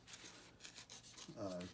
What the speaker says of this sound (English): just start sanding it rather than using a knife, and it gets it a little bit more accurate.